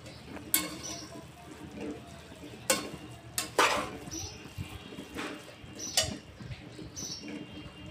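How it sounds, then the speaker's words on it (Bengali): Cabbage ghonto being stirred in a pan, with soft scraping and patter from the spoon and a few sharper clinks against the pan, faint and close, no speech. "এখন কপির ঘন্টটা আমি ভালো করে নেড়ে চেড়ে"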